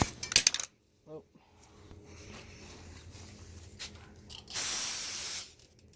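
Aerosol spray bursts into a small engine part while it is cleaned out during winterizing, with short hissing sprays at the start and a longer loud hiss near the end, plus a small metallic clink between.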